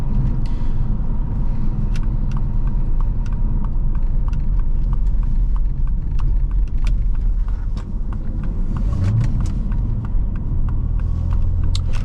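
A 2006 Saab 9-3 Aero SportCombi engine drones steadily while driving, a loud, constant low rumble with road noise and regular faint ticking over it, and no talking.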